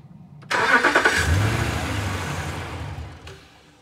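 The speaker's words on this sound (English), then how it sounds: "And I'll go ahead and start it one more time with a key." A 2012 Ram 1500 pickup being started with a key after a starting problem: a close, loud cranking whir that catches within about a second, then settles into a steady rumbling idle.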